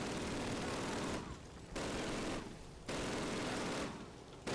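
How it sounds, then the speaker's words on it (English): Sustained bursts of machine gun fire from emplaced gun nests in the Call of Duty war game, loud and dense, coming in three long volleys separated by short quieter pauses. "Machine gun nests."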